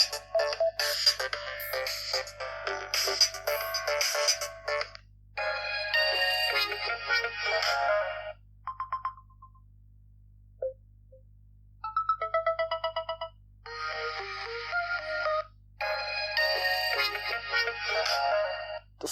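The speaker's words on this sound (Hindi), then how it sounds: "रिंगटोन में आ जाते हैं। ओके, तो यहाँ पर ये कुछ साउंड्स हैं," A series of ringtones plays from the speaker of a Samsung Galaxy A01 Core phone, bright melodic tones in bursts separated by short pauses, each tune different in rhythm and length.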